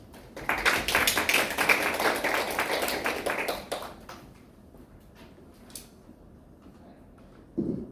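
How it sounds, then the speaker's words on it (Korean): Audience applause welcoming the chairman at a Metaverse Future Forum seminar: a dense burst of clapping for about four seconds, then fading to scattered claps and room noise, with a brief sound near the end. "큰 박수로 저희 의장님이 환영해 주시기 바랍니다."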